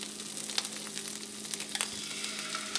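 An egg crackles and sizzles in a hot frying pan, with bright spitting pops scattered over a soft steady hiss, close and moderately quiet.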